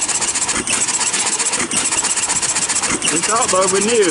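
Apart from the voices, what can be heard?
hit and miss engine powering ice cream churns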